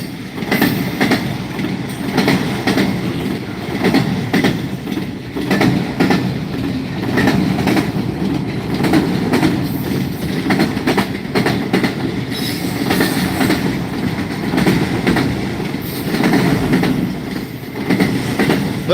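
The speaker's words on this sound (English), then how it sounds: "Engines, 2 NS, and one UP locomotive." A Norfolk Southern freight train with three locomotives, two NS and one Union Pacific, rolls past close by, a loud steady rumble of rail cars with clickety-clack wheel noise and light squeal running through the whole stretch.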